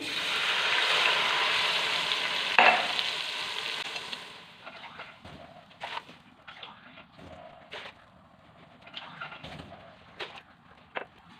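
A loud hissing, sizzling rush as water hits a hot pan of tempering for cumin rice, fading after a few seconds into quieter bubbling with occasional clinks and taps.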